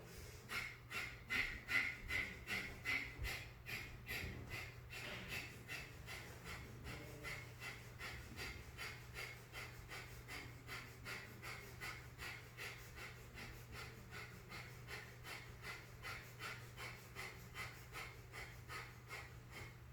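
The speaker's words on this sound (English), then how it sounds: "we're going to do big breath of fire here." Rapid, rhythmic yoga breath of fire, a long run of quick forceful nasal exhalations close to the mic, strongest at first and then settling into a steady, slightly softer pace with no talking.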